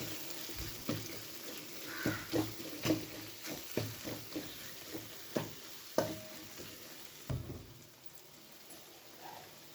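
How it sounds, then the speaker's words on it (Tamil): Chili powder and masala sauté in oil for a Tamil fish gravy, a soft steady sizzle with spoon stirring and scraping against the pan, faint and close, no talking. "ஒரு டீஸ்பூன் குழம்பு மிளகாத்தூள், மசாலா தூள்லாம் சேர்த்து நல்லா எண்ணெயிலே நல்லா வதக்கிக்கிறேன்"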